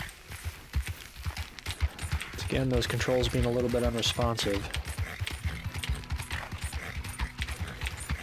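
Horse hooves galloping in the video game Red Dead Online, a quick, rhythmic drumming of hoofbeats that runs throughout, heard under someone talking over it.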